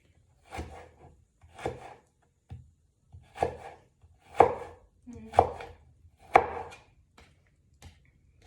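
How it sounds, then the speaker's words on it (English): A knife finely julienning ginger on a wooden board makes about eight crisp, close chopping strikes in a loose steady rhythm, each a short thud with quiet gaps between, and no voices. "instead of thin slices, I'm gonna do like a very fine julienne"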